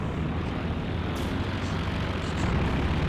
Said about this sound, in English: Planes continue to circle, zoning out Allied vehicles.